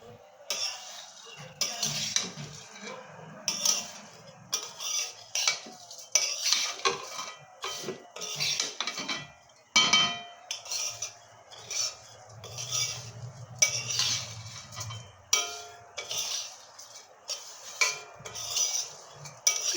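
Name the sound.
stirring and frying in ghee in a pan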